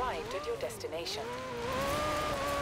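Alfa Romeo Giulia Quadrifoglio, a 2016 car, engine screaming in Forza during a hill climb time attack, with rising and falling high-revving tones across gear changes under a voice talking.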